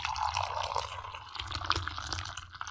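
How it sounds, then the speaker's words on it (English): Morning coffee pouring steadily into a cup, a continuous trickling splash with a low hum underneath, close and moderately loud. "So this is the sound of my morning coffee."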